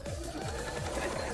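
A sewing machine runs steadily at a quick, even stitching rhythm, faint and continuous throughout with no pauses.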